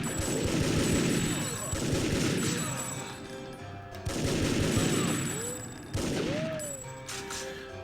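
Pistol fire in a TimeSplitters game comes in quick, rapid clusters of loud close shots, with short pauses between bursts and trailing ricochet-like whines.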